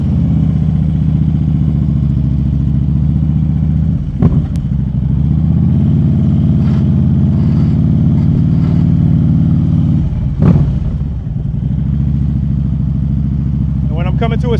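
A Harley-Davidson 2024 Road Glide motorcycle idles with a steady low engine rumble throughout, with two brief throttle or gear changes, while a rider talks over it.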